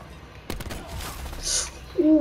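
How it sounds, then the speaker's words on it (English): Gunfire in Black Ops 4, a short cluster of sharp shots close by followed by fainter scattered cracks and small game effect tones, with no talking. "That was a clean shot that you just did, though."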